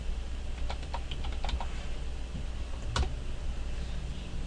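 Keystrokes on a computer keyboard as a switch configuration command is typed, a quick burst of clicks followed by a pause and a single firmer keypress, close and clear over a steady low hum.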